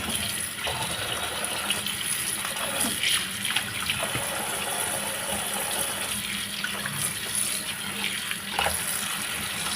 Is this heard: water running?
yes